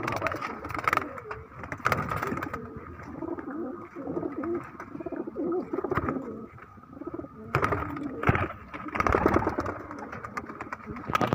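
A flock of Madrasi pigeons kept for sale coos in soft, overlapping, throaty calls that rise and fall, close and continuous, with faint traffic in the background.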